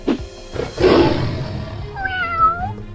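A sleeping cat lets out a couple of soft, drawn-out meows, close by and alone, with a brief rustle near the start.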